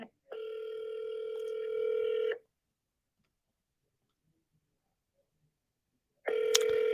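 Outgoing phone call ringback through CallRail: two long electronic ring tones separated by about four seconds of silence, clear and close, with no talking.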